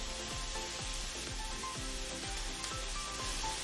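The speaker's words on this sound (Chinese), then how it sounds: "继续翻炒" Bitter melon stir-fried in a pan with sugar and salt, a constant close sizzle with regular scraping strokes of a spatula roughly every half second.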